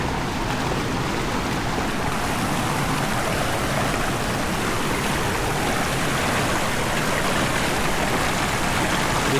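Water at Casaroro Falls rushes in a steady, close, broadband wash that runs unbroken throughout, with no voices.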